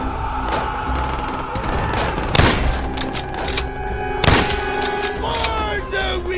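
Gunfire in the World War II shooter Call of Duty: World at War: two loud, sharp shots about two seconds apart stand out over a busy backdrop of battle noise and tonal sound.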